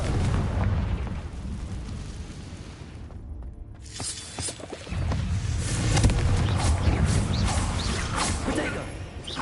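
A Confringo spell explosion in Hogwarts Legacy, with loud bursting blasts and rumble, a brief lull, then more crackling explosive impacts that continue to the end, mixed with game sounds.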